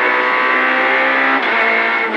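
A Peugeot rally car on a special stage of the 2022 Rallye de Lorraine, its engine screaming loud and close at high revs with a brief dip as the driver shifts.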